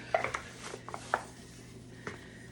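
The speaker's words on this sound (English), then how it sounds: "Let me actually just move the roasting pan over." A metal roasting pan loaded with sweet potatoes is slid and shifted across a surface, giving a few soft scraping rubs and light clanks, fairly faint and with no talking.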